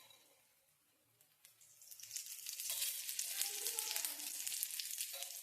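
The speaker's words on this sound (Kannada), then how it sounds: "ಸ್ವಲ್ಪ ಜಾಸ್ತಿ ಫ್ಲೇಮಲ್ಲಿ ಒಮ್ಮೆ ಫ್ರೈ ಮಾಡ್ಕೊಳ್ಳಿ" Food frying in oil over a higher flame: a faint, quiet start, then a sizzle that swells into a steady, dense crackle and holds close and loud to the end.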